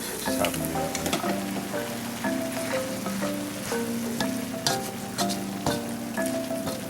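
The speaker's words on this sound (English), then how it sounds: "Veggies are cooking pretty well." Vegetables for fried rice sizzle steadily in a hot pan, with a busy crackle and occasional clinks and scrapes of stirring, close and continuous; no talking.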